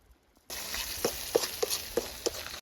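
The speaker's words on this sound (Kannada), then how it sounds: "ಈರುಳ್ಳಿ ಆಮೇಲೆ ಕ್ಯಾಪ್ಸಿಕಮ್ ಎಲ್ಲ ಫ್ರೈ ಆಗ್ಬೇಕಾದ್ರೆ ಆಯಿಲಲ್ಲಿ ಸ್ವಲ್ಪ ಖಾರದ ಪುಡಿ" Onion and capsicum frying in oil, cooked outdoors in a forest: a steady close sizzle starts abruptly after a brief quiet moment, with a few sharper crackles and pops scattered over the hiss.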